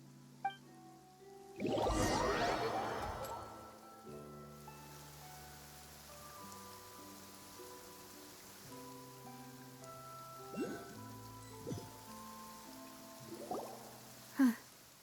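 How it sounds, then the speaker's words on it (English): Steady rain falls in a video game scene, a soft continuous patter layered under sustained game music, with a few brief louder drops or splashes near the end. "It's been raining non-stop for a few days now."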